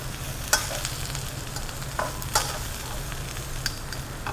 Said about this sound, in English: then you'll just cook your vegetables to the degree of doneness